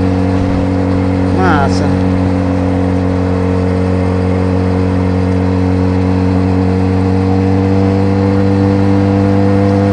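A Yamaha MT-07 motorcycle engine drones loud and steady while riding, a constant strong tone throughout, with a person speaking briefly near the start.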